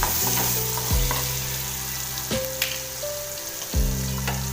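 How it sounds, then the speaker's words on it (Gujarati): Tomatoes and garam masala sizzle in a pan for spiny gourd (kantola) curry, a steady crackling fry broken by three or four sharp metallic stirring knocks from a spoon, close and clear, with no talking. "ગરમ મસાલો એડ કરીશું 1/2 સ્પૂન, તેને આ રીતના હલાવી લઈશું।"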